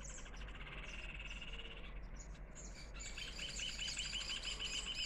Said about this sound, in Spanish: Escuchen el trinar de los pájaros.